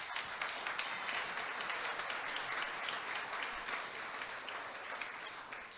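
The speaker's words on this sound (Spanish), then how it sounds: "Dale un aplauso al Señor." A church congregation applauds during a Christian sermon, sustained even clapping from many hands heard at a steady moderate level throughout, with no speech over it.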